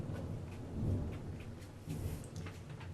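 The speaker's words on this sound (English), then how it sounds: "ooh, we've got a nice thunderstorm out there." A thunderstorm rumbles outside: low, rolling thunder swells and fades across the moment, distant and muffled, with no voices present.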